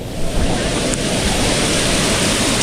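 Floodwater in a swollen river rushes past as a loud, continuous, close roar of churning water, with wind noise on the microphone and no voices.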